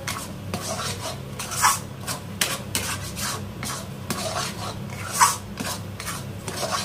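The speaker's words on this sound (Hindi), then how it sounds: "अब इसे भी हम थोड़ा भून लेंगे ताकि इसका भी ये मावा में मिल जाए अच्छे से।" Coconut and mawa roast in a pan while a spoon scrapes and stirs, making steady close rasping strokes against the metal with occasional louder scrapes, alone without talk.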